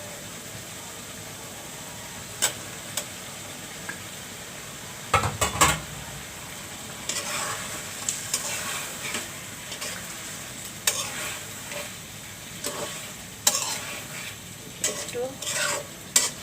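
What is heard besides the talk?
fish roe frying and being stirred in pan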